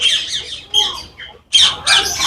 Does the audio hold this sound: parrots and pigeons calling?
yes